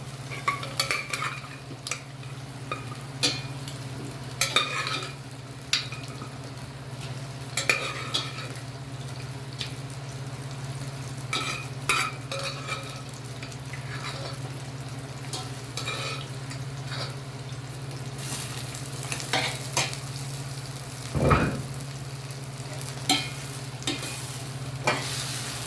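Mutton, eggplant and tomato being stirred in a pan, with irregular scrapes and knocks of the spoon over a quiet, constant sizzle and low hum, plus occasional clinks.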